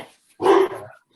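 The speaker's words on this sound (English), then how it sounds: "I think that's David's dog" A dog gives one short, close bark with a slight whimpering tail, loud against near silence, in a gym setting.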